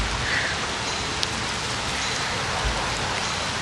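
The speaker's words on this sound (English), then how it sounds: "It is starting to rain. It's gonna start raining pretty hard here." Rain beginning to fall outdoors makes a steady, dense hiss of drops on surfaces, fairly close, with a faint low rumble under it and no voices.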